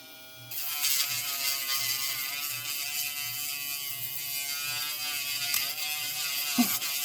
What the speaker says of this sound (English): one way to trim your fingernail is to Dremel it